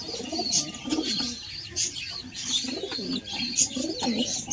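Domestic pigeons coo softly and repeatedly, with a young bird begging for food from a male. The low, rolling coos come from close by, with a faint airy background behind them.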